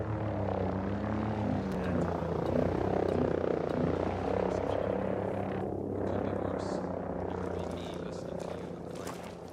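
Helicopter rotor from the video game Ghost Recon Breakpoint, a steady low droning thrum held throughout at moderate loudness, with game ambience and faint background noise layered in.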